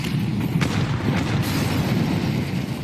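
Grenade blasts in a Counter-Strike match at the 2025 Budapest Major, a dense, loud low rumble of overlapping explosions with sharper bursts near the start, no voices.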